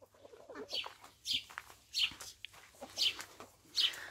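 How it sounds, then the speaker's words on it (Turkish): A chicken clucks in a series of short, evenly spaced calls, about five bursts, close and fairly quiet with soft background noise. "Benim beyaz tavuğum burada."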